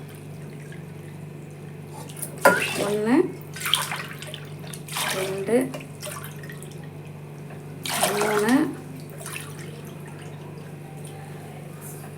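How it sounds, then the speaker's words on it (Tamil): Three cups of water are poured into a pot of rice and split mung dal for coriander pongal, as three separate splashing pours close up while a woman counts aloud. "இப்போ இதில் 4 கப்பு தண்ணியை சேர்த்துக்கலாம்"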